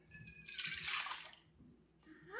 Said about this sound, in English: 1 1/4 cup of warm whole milk, and we're going to pour this into here